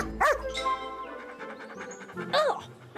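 A small cartoon dog yips in two sharp, close barks at the start and end, with panting and soft whimpering in between.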